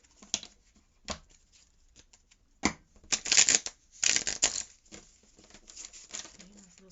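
A deck of tarot cards is shuffled by hand in a quiet room: scattered soft taps, then a few dense, riffling bursts of card noise, close and clear.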